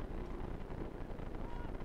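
Strong wind gusting up to 53 miles per hour roars across the microphone at an outdoor men's college soccer match, a loud, constant low rumble and buffeting with a voice faintly under it.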